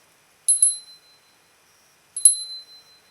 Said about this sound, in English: use the bells, clear vibrations to cleanse your magical space